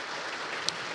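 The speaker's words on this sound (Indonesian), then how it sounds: "Teman-teman sekalian boleh beri tepuk tangan buat mereka." A short burst of steady clapping from a church congregation, dense and even, with no voices.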